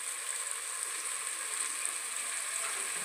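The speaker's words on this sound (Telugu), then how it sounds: "పచ్చి వాసన పోయేంత వరకు వేయించుకుందాము" Ginger garlic paste fries in a pan for chicken pulao, giving a steady, faint sizzling hiss with no other sounds.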